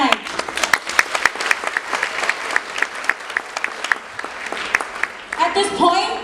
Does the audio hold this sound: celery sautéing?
no